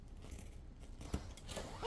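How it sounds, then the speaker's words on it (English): Scissors cut into a package at home, one quiet close snip followed by soft scraping cutting, faint against a low room hush. "Let me get my scissors out."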